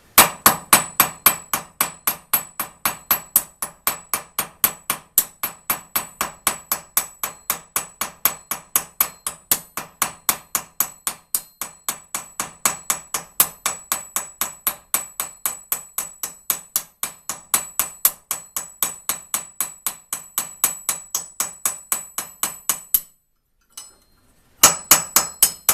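A homemade rivet hammered tight against steel, a long run of fast, evenly spaced metallic blows ringing close and loud, then a brief pause and a few final strikes.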